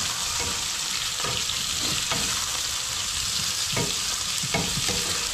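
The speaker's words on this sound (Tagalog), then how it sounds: "ginisang talong" Eggplant sautéing in a pan, a steady loud sizzle broken by occasional scraping stir strokes, close up and with no talking.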